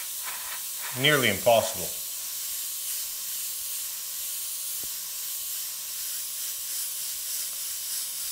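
An airbrush sprays paint in a steady, faint hiss that runs throughout, with a person talking briefly near the start.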